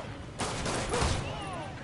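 Gunfire bursts in the Spider-Man PS4 video game, a dense loud volley running through most of the short moment with a heavier crack near the middle.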